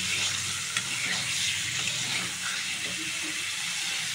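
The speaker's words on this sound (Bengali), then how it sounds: "এখন আলু আর পটলটাকে একটু কষিয়ে নেব।" Potatoes and pointed gourd are sautéed in a hot pan for a Bengali fish curry, giving a steady, close sizzle and frying hiss throughout, with faint stirring and no voices.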